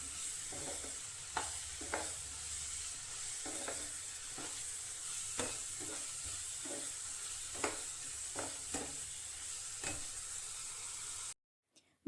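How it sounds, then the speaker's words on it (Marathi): Vegetables for a paneer dum biryani sauté over a high flame with Suhana biryani masala and yogurt, a steady hiss of frying broken by regular scraping stirs, then a sudden cut to silence. "अर्धा मिनिट आपल्याला हाय फ्लेमवर हे व्हेजिटेबल्स चांगले परतून घ्यायचे आहेत"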